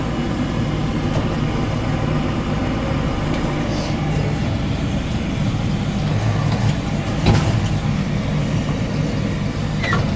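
Tractor pulling a hay trailer on an alfalfa hay field in Montana, a steady, close, continuous diesel rumble with occasional clanks and rattles, no talk over it.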